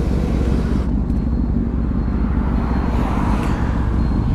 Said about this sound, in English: ZX-10R with Austin Racing exhaust. So this is a 2018 model. It screams a lot, bro.